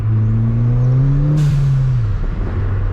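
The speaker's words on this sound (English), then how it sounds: "it does have exhaust, whoosh intake, and a blow-off valve, which sounds pretty nasty if you ask me" A car engine drones and revs up close, its pitch climbing, then a sharp hissing whoosh from the blow-off valve as the throttle lifts and the tone drops away.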